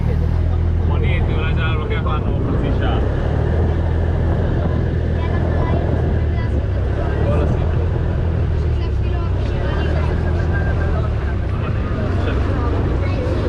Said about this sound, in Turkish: Tekne yeni yeni hareket ediyor şu anda.